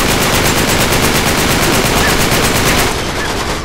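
Automatic gunfire in the video game Uncharted 3, a loud, rapid, evenly spaced stream of shots hammering on without a break for about three seconds before cutting off into quieter game noise.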